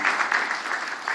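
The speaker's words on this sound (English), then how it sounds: "So big round of applause." Audience at an innovation exhibition event giving a round of applause, a brief burst of continuous, fairly close clapping with no pause.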